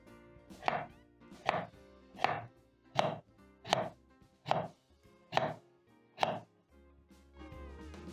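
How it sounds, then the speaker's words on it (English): A sharp knife slices potatoes into medium-thin round slices on a board for Kenyan maru bhajia, producing eight evenly spaced, crisp chops close up, with no voices over them. "As you chop up the potato, watch over your fingers because you're using a sharp knife."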